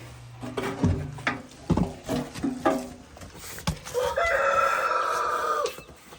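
Chanticleer chickens in a barn cluck in short irregular bursts, then one rooster lets out a long loud crow near the end, close and clear with no talking.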